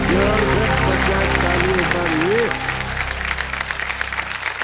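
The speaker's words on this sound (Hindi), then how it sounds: "तालियां थोड़ी कम हो गई हैं" Studio audience applause on the Kaun Banega Crorepati quiz show, dense and loud, with background music and a voice over it early, thinning toward the end.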